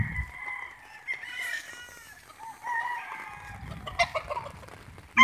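Chickens cluck and a rooster crows in a flooded yard, with overlapping calls at moderate distance, short bursts of clucking and a few sharp squawks against a quiet background.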